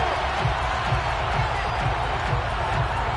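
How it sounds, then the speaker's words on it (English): Stadium crowd in the Madden NFL football video game shouting and cheering steadily through a replay, a dense continuous roar with rhythmic low thumps beneath, no talk over it. "Plenty of shouts from this crowd as they watch the replay"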